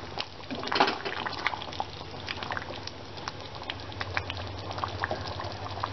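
Butter chicken curry simmers in a pot with the chicken cooking through, giving a steady low bubbling and soft popping that stays close and moderate in level, with no talking.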